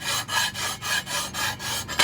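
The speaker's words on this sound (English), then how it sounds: "Take the file. And you're going to rub it back and forth like Papa was doing." A hand file rasps back and forth in steady strokes, about eight even passes in two seconds, close and fairly loud with brief gaps at each reversal.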